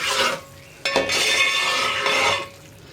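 A spoon stirs cardamom powder into ghee rice payasam in a pot, with scraping strokes and a couple of sharp metallic clinks against the vessel, close and fairly loud.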